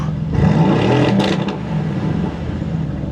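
A Mercedes-AMG GT engine revs up sharply and loudly with its exhaust valves open, then settles back into a low, rumbling idle.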